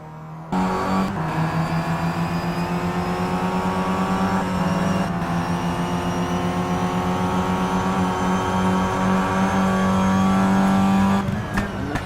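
WTCC touring race cars, including two Volvos and a Renault, roar around the track in a sustained, loud engine drone with steady harmonic whine and shifting pitch as they battle closely, heard alone without talk.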